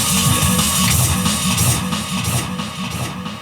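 Dense, smeared music from a DJ echo effect on a held-still record, repeating echoes blurring into a continuous wash, loud throughout and slowly thinning toward the end.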